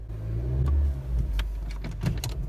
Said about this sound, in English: Listen to how it sounds. How smooth this engine is.